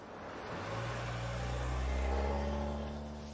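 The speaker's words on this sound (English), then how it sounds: "I think I hear Shackelford's car" A car approaches, its mid-pitched engine hum rising steadily and growing louder over a few seconds as it draws near, with no voices.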